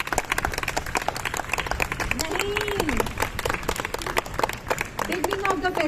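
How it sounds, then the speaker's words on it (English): An audience at a Diwali laddu-making event at a hotel breaks into loud, dense applause, with steady clapping continuing throughout while voices and cheers rise over it. "Give a good round of applause"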